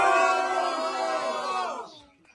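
A large crowd cheers and chants for President Trump, a sustained roar of many voices with tonal shouting that swells, then trails off into quiet.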